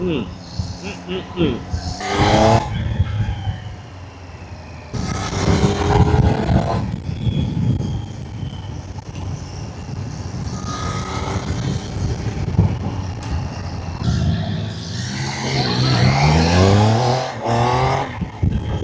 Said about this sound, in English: It sounds sweet. That's 3-cylinder engine.